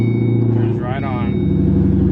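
A 3V car started with a newly programmed S550 key runs as a steady, loud low engine rumble throughout, with a voice briefly heard over it.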